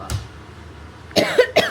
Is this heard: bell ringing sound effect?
no